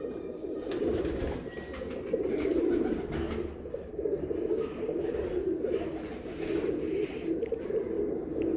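Teddy breed pigeons coo steadily in a continuous low, warbling murmur, several birds close together at a breeder's loft in Kasur, with no talk over them.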